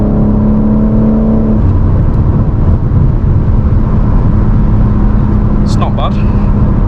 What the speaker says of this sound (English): like even like a 6 gear pull, like that's half throttle